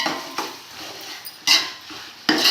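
A utensil stirs chicken biryani in a pot, making a few distinct scraping clanks against the metal at uneven intervals, close and fairly loud, with no voices.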